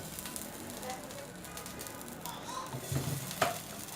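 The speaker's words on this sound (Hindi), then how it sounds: "ऑयल के साथ ये लहसुन और ये हरी मिर्चा ऐड कर दें।" Garlic and green chilies frying in oil in a pan, a steady soft sizzle running throughout with faint stirring scrapes and a brief clatter near the end, heard up close and fairly quiet.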